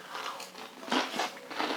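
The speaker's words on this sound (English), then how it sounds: "The romaine lettuce gives it that nice crunch along with the croutons." Crisp crunching bites into a chicken Caesar salad with romaine lettuce and croutons, several close, loud crunches in a steady chewing rhythm with no talking.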